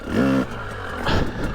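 A Husqvarna trials motorcycle engine revs hard for a moment at a greasy obstacle, then drops back before a second shorter burst of throttle, close by and loud.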